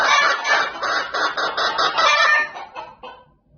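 Several chickens squawk and cackle loudly at close range in a noisy backyard squabble, a dense run of overlapping harsh calls that trails off near the end.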